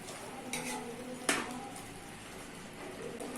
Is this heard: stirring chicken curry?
yes